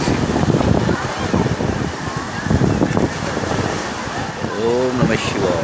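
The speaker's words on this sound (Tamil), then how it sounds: "அக்னி தீர்த்த கடல்." Sea waves wash onto the shore at Agni Theertham in Rameswaram, a steady loud surge with wind rumbling across the microphone, while voices and chanting run over the surf throughout.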